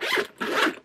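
A box purse zipper is pulled in two quick strokes, a close, crisp rasping zip with a brief pause between them.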